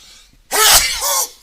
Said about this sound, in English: I've got a sneeze.